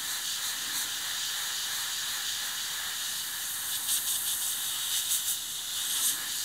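Steady airbrush hiss of paint mixture spraying while airbrushing a model Focke-Wulf aircraft, a continuous bright airy rush with small fluctuations and no talking.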